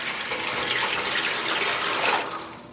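Water gushes steadily from a tap into a 4-inch-deep full-size stainless steel catering steam pan being filled as a yarn dye bath, a continuous close splashing pour with no talk.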